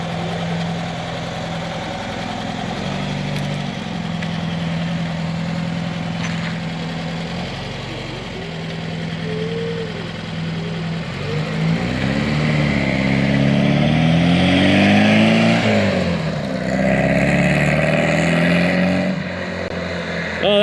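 A 1968 Volkswagen Beetle with a new carburetor idles with a steady low rumble, then revs and pulls away, its engine note rising and falling loudly as it drives off around the block; no one speaks.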